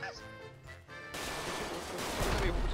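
Gunfire in the video game GTA RP: a burst of rapid shots breaks out after a quieter stretch and grows into a dense, crackling volley, with faint talk underneath.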